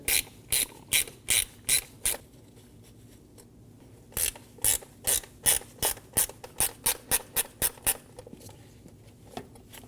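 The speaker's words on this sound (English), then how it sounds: "Using a Phillips bit, we're going to remove the 2 screws for our MAF sensor." A Phillips bit ratchets out the two MAF sensor screws on a 2008-2015 Scion xB 2.4L engine air box: two bursts of rapid, close clicking, each a quick run of sharp ticks, separated by a brief pause, with no talking.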